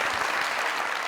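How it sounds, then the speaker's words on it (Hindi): A live comedy-show audience claps briefly, a dense burst of applause from a crowd without any voices. "एक दो तालियां।"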